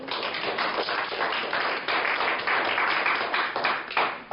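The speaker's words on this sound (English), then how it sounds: "Round of applause for Jason." Audience applause at a business seminar about China, steady clapping from a crowd lasting several seconds, fairly close, with no talking over it.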